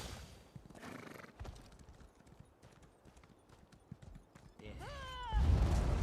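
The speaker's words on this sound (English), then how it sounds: "Stupid horse is so slow as well." A horse in a video game clip-clops along under an ongoing background, then gives a loud rising-and-falling neigh near the end, followed by a burst of louder noise.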